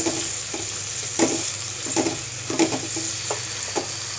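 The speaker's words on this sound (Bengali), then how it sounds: "এতে করে মটরশুঁটিটাও ভালোভাবে ভাজা হয়ে যাবে পেঁয়াজের সাথে" Green peas and onions fry in a pan for egg biryani, a continuous close sizzle broken by regular scraping stir strokes, loud and steady with no voices.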